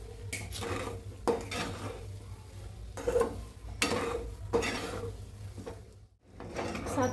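Sugar being stirred into semolina shira for Satyanarayan prasad, a spoon scraping and clinking against the pan in repeated bursts with short pauses, close and fairly clear.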